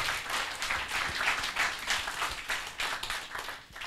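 Audience applause welcoming a rapper onto a stage, a moderate, fairly distant wash of clapping that swells and dips slightly, with no talk over it.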